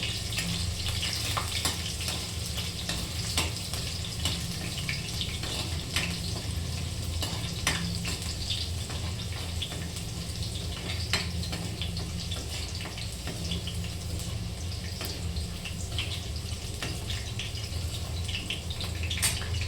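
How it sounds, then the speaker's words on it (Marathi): Potatoes sizzling in a hot pan while being stirred, a steady dense frying hiss with occasional scrapes and small pops, close and continuous, no voices. "आणि आता लगेच बटाटा टाकून घेणार आहे."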